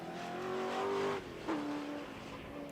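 A Triumph TR8 race car with a 3.9 engine in classic sports and saloon racing, the engine droning at steady revs, dropping off briefly and then pulling again, heard without talk.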